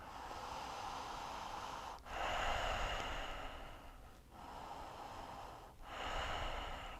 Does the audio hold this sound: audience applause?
no